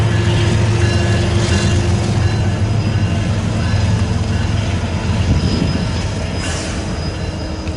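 A Union Pacific train rolls north through Fairbury, Nebraska, its wagons rumbling continuously with steady wheel noise and squeal. The sound stays loud and close for the whole stretch.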